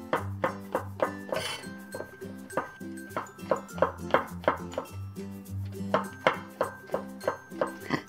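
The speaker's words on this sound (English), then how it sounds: "So first of all, let's cut all the ingredients." A knife chops onion, mushrooms and carrot on a cutting board while preparing Chinese chicken chow mein, giving a steady run of sharp, close knocks, alone and with no talk.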